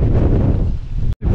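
Strong wind buffets the microphone at a campsite on the Spanish Atlantic coast, a loud continuous roar with gusty rumble that drops out briefly near the end before returning.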